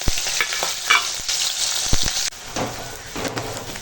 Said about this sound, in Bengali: তেলের ওপর দিয়ে দেবো দিয়ে একটু ভেজে নেবো একসঙ্গে